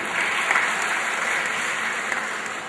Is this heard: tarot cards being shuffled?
no